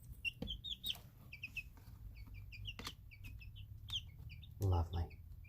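Young chicks about four weeks old cluck and peep in repeated short bursts close by, with a few soft knocks and a louder cluck near the end.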